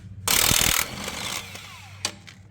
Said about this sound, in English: It's time to grab the 14 and or 9/16 and start taking all these manifold bolts